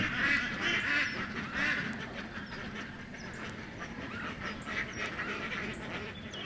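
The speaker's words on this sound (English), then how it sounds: "Oh, they're by the other ducks." Several ducks quack in repeated nasal bursts at close to moderate distance, with the loudest calls early and scattered quieter quacks after, and no talk.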